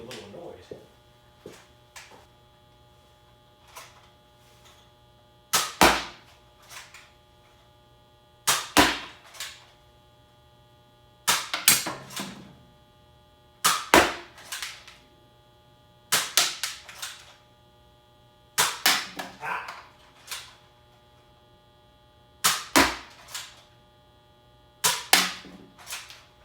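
A Nerf Trailblazer RD-8 blaster fires darts in sharp, snappy pops, often in quick pairs or triples, with pauses between volleys over a faint electrical hum.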